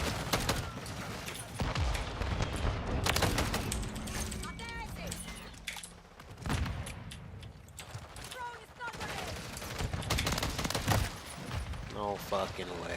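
Shotgun blasts and other gunfire in Call of Duty: Modern Warfare 3 burst out repeatedly amid busy game noise, mixed with mechanical clatter and someone talking over much of it.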